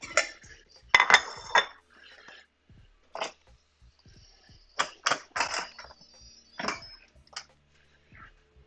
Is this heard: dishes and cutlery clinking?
yes